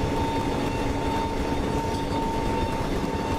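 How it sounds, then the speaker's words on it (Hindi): The Shri Jagannath Express 18409 passenger train, hauled by a WAP-7 electric locomotive with ICF coaches, rumbles past in a simulator as a loud, continuous roar with a steady tonal hum. "गाइस सामने से श्री जगन्नाथ एक्सप्रेस आ रहा है, सामने श्री जगन्नाथ एक्सप्रेस 18409 श्री जगन्नाथ एक्सप्रेस आइए वेब 7 लोकोमोटिव के साथ"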